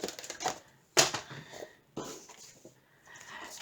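Scissors snipping through a sheet of double-sided tape, three sharp close cuts about a second apart over quiet rustling, fairly faint overall.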